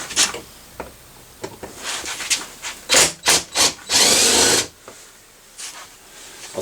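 Socket tool working a tight bolt out of a brand-new 2021 Nissan Frontier door panel, heard as scattered clicks and scrapes, then a run of loud, sharp bursts of grinding and ratcheting before it settles back to quiet handling noise.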